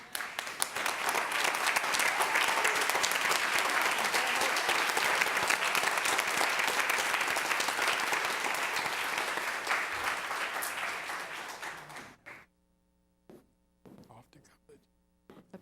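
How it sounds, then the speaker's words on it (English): A room full of parents, teachers and principals at a school board meeting claps in long, sustained applause that swells, holds, then tapers off and stops abruptly, followed by faint room sounds and a voice. "please stand so we can give you a round of applause"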